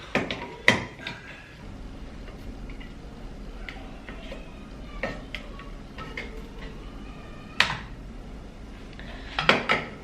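A can opener working on a tin of fish, with sharp metallic clicks and scrapes spaced irregularly over a quiet background, a few louder cuts standing out near the end.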